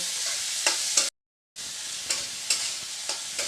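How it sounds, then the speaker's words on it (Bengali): Ginger and red chilli powder sauté in hot oil in a pan, a soft continuous sizzle broken by a brief silence, with a spoon scraping and stirring every second or so. "আদাটার কাঁচা গন্ধটা মেরে নেওয়া পর্যন্ত আমি কষিয়ে নেব।"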